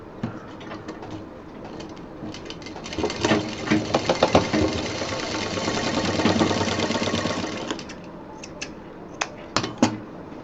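A sewing machine stitches a zip onto a college bag, a dense rapid whir that swells in the middle and stops, followed by a few scattered clicks and taps.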